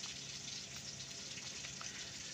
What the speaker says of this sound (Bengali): এই সরিষার তেল দিচ্ছেন।